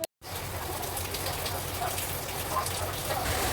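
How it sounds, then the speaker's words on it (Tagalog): Heavy rain in Manila pours down in a steady, dense hiss that continues without break after a brief silent start, loud and close, with no talk. "Kung narinig nyo ang lakas ng ulan"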